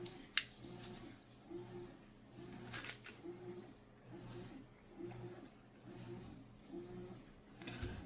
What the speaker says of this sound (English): I got my scissors. I'm going to go ahead and cut these out